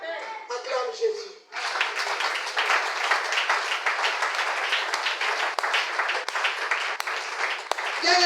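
A church congregation breaks into loud, sustained applause after a voice calls out, dense clapping that fills the room and carries on steadily with a few sharper claps standing out.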